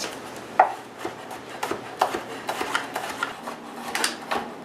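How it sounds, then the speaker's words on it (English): A knife slices garlic thinly on a cutting board in close, irregular taps, each stroke a crisp, short knock against the board, with brief pauses between cuts. "So it says to just slice the garlic thinly."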